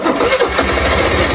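A car-like engine cranks and catches, then runs on loud and steady close by with a smooth, stock-sounding note, no one speaking.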